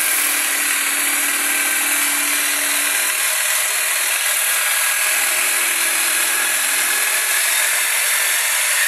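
Bosch jigsaw fitted with a T 313 AW foam blade cutting a curve through thick foam rubber, a loud continuous buzzing rasp that shifts slightly in tone as the cut progresses, close up with no speech.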